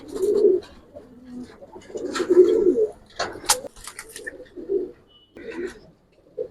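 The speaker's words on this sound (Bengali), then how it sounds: "অনেক সুন্দর সুন্দর কবুতর কালেকশন আছে" Gribaz silver coloring pigeons coo in a run of soft, throaty, repeated calls, each a low burbling pulse with short pauses between, close by, with a few sharp clicks and rustles between the coos.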